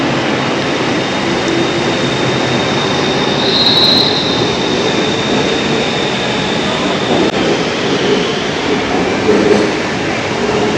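Loud rumbling roar of a BTS Skytrain at a Bangkok station platform, steady broadband noise with a faint high whine and a brief chime partway through.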